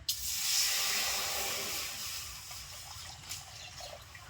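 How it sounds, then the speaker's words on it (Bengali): Water poured into a pre-heated wok over a lit clay stove hisses and steams in a steady, fairly loud broad wash that slowly eases off, with faint trickling and no voices. "জল দিয়ে দিচ্ছি কড়াইতে"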